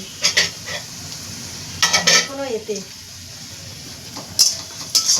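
Vegetables for a home-style veg dal fry in a pan while a spatula stirs and scrapes them; a soft sizzle runs underneath sharp metallic clinks that come in short bursts, with a few words spoken briefly.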